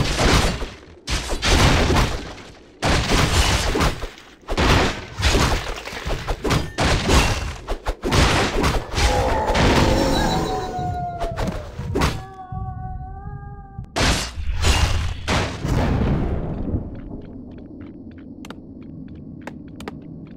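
Battle noise from WarCraft 3 Frozen Throne, with dense thuds, impacts and shattering hits piling up, a few tonal game effects partway through, then fading to sparse clicks near the end.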